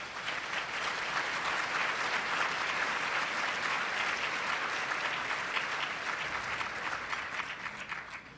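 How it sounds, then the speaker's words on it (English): A crowd at a bar association MLK luncheon gives a steady round of applause for honored guests, dense and continuous, tapering off at the very end. "Please give them an applause."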